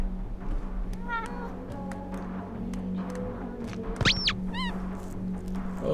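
Cat meows from Life is Strange: True Colors, a few short mewing calls and one louder rising-falling meow near the end, heard over a steady game background hum.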